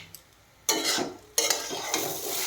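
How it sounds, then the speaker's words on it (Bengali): Leftover fish is reheated in a pan, with two bursts of loud close sizzling and a scraping stir, quiet between them. "বিড়ালের মাছটা আবার ফের গরম করলাম।"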